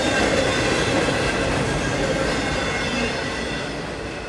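A freight train rolls past on the tracks near Jacksonville, a steady loud rumble of wheels and cars that slowly fades toward the end.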